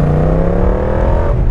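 Motorcycle engine fitted with a new full aftermarket exhaust line, revving steadily under throttle with a loud, continuous droning tone that climbs slightly, close up, no voices.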